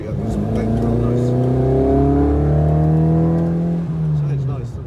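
A classic Volvo P1800 pulls uphill after a downshift, its engine note climbing in a loud, smooth rising whine for several seconds, then easing off, with a voice talking faintly over it.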